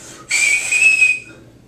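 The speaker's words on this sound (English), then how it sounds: "Even this little thing forms a whistle, and you can do this with pretty much anything." Breathy, high-pitched whistle made by blowing over a small piece of vinyl tubing, one sustained loud tone lasting about a second, with airy hiss, then fading out.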